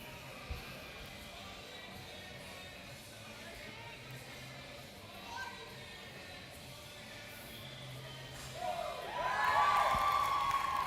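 Supporters cheering in the crowd at a powerlifting competition, a quiet hall with a small thump early on, then a swelling burst of shouts and whoops near the end.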